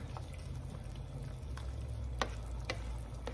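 Brown sugar is stirred in a pan with butter for Cajun butter garlic seafood, a low steady sizzle with a few soft spoon scrapes and clicks close by.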